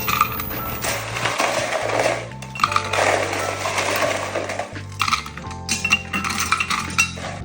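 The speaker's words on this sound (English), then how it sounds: "Now in your dispenser you're going to add lots of ice." Lots of ice cubes tumble into a drink dispenser for Chapman punch, a loud, continuous rattle and clatter of cubes against the container with bursts of clinking throughout.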